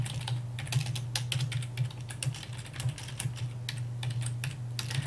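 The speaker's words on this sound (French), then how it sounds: "Je vais alors taper mon texte." Computer keyboard typing out an email message in a Windows 8 mail app, a steady run of quick, close key clicks with a constant low hum underneath and no talking.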